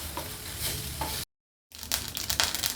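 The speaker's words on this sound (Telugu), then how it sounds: "పచ్చడి పోపు వేసేసుకుందాం" Mustard seeds, fenugreek, urad dal and chana dal frying in hot oil as tempering for Trimurtula chutney, a steady close sizzle and stir broken by a short silent gap, with no talk.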